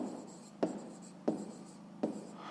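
A pen or pencil writes on paper while noting a linoleum roll's mass for a fifth-grade maths exercise, giving a soft scratching with three sharp taps spaced about evenly, close and quiet, with no speech.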